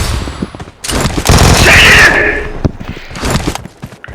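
Rapid bursts of gunfire in the mobile battle royale game PUBG Mobile, a dense loud volley in the middle with sharper isolated shots around it, with brief voices nearby.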